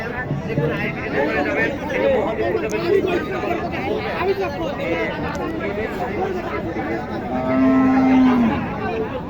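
Cattle moo amid a busy crowd at a cattle market, one long low moo standing out near the end over steady chatter of many voices bargaining.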